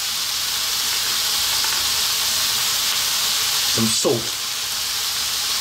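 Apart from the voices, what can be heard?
ground beef frying in a pan with pepper and salt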